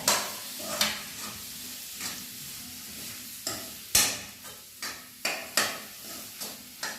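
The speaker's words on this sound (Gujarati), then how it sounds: "આ તેલમાં ઘડીક વાર સસળવા દેવાની છે એકદમ સસળાઈ જાય" Spices, including Kashmiri chili, and peanut powder sizzle in hot oil for a dry potato and peanut bhaji, a soft continuous fry under repeated metallic clinks and scrapes of a spoon stirring in the pan.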